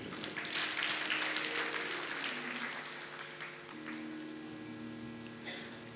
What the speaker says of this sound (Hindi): उन माता जी के लिए ताली बजाइए।